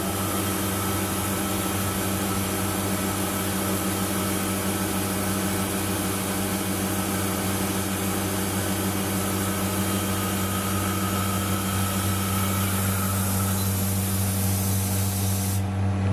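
A CNC milling machine runs after cycle start, a loud steady hiss and whine with a constant low hum that continues unchanged, no voices present.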